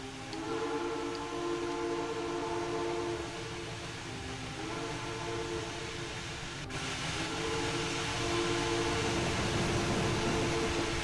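A steam locomotive whistle on a heavy 2-10-2 locomotive in the Trainz video game sounds in long, steady harmonic blasts over a continuous rumble of train noise, loud and close, with a brief pause partway through.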